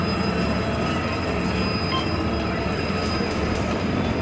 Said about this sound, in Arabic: بيخرج المترو هذا برك